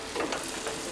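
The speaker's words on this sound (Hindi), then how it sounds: "अब हम इसमें शामिल करेंगे 3 अदद दरमियाने साइज़ के टमाटर कटे हुए।" Chopped tomatoes, three medium ones, stirred into light brown fried onions in a frying pan over a medium flame, giving a steady close sizzle with soft scraping strokes and no talk.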